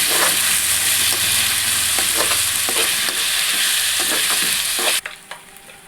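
Chopped tomatoes hit a pan of dried-out onions and curry leaves, making a loud, steady sizzle with rhythmic stirring scrapes that cuts off suddenly near the end, leaving only a few faint clatters.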